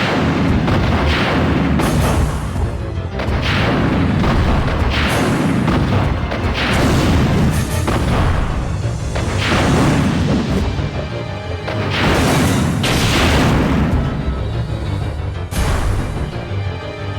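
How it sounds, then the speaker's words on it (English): Rocket launcher fire and heavy explosions from the Resident Evil Survivor 2 video game, a series of loud booming blasts repeating every second or two with rumbling tails, no voices. "so 2 shots to defeat Nosferatu with the rocket launcher"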